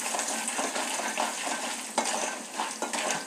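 Turkey berries (sundakkai) fry in a pan with a steady, close sizzle and crackle, punctuated by a few sharp stirring clicks of a utensil against the metal.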